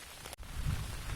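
Gentle summer rain falling steadily as a dense, soft patter of drops on surfaces, close and continuous with a brief dip in the middle, no voices present.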